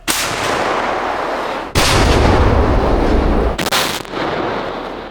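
Three heavy tank gun blasts in a forest, each a sudden booming crack with a long rumbling decay, spaced about two seconds apart and very loud and close.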